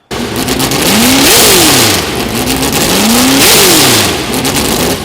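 A loud, raspy engine revs up twice through an 8-to-1 header on an Ultra4 off-road build, rising to a sharp peak each time then falling back, with a throaty exhaust rumble throughout.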